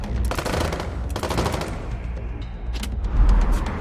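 Automatic gunfire and explosive bursts from a turn-based combat encounter in the video game Wasteland 3, rattling in dense volleys with a heavy low boom near the end, loud throughout.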